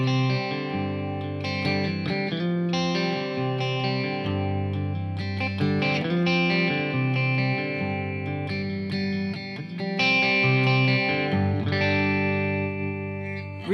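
Telecaster electric guitar with Peter Florence pickups, switched to the middle pickup and run through overdrive, tremolo and reverb pedals, strumming a steady run of mildly distorted chords and single notes at even volume.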